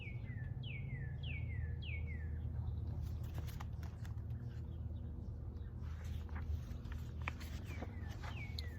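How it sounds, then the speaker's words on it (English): Wild woodland birds warble in a series of quick descending whistled phrases, repeated several times at the start and again near the end, over a steady low rumbling background with scattered soft rustling. "Listen, hear the warble of the wild wood birds."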